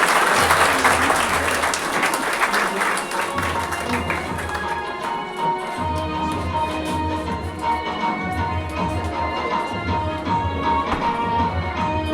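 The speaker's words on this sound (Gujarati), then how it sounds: "આપણે સૌ તાળીઓના ગણગણાટ સાથે તેઓનું સ્વાગત કરીએ" A crowd at a children's graduation ceremony applauds to welcome the kids, loud clapping that gradually thins into scattered claps and shuffling, with a low hum underneath.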